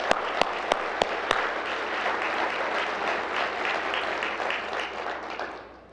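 Loud, steady applause from a large audience at a city State of the City address, thanking a trombone quartet and honor guard, with a few sharp claps standing out at the start before the sound fades near the end.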